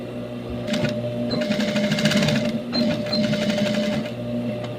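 A sewing machine stitches a small fabric scrunchie closed with a tiny edge seam, humming in steady close bursts with rapid needle ticking that briefly slows and pauses between runs.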